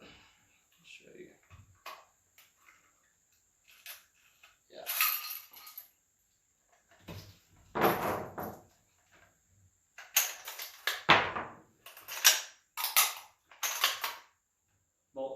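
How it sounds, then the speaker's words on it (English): An SKS rifle's action cycles in a series of sharp metallic clacks and snaps, with separate close bursts and a final bolt locking open on the last round from its fixed ten-round magazine, with no talk over them. "Bolt holds up on the last round, but fixed magazine, holds 10 rounds."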